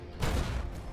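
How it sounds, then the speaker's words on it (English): A frag mine explodes in Fallout: New Vegas, giving a single loud, low boom with a rumbling tail. The blast lasts through the short moment and no one talks over it. "Frag mines will do the work for me."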